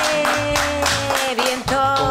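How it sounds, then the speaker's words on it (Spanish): Brief studio applause in short bursts of clapping, heard over a backing of musical tones for about two seconds. "Un aplauso, por favor."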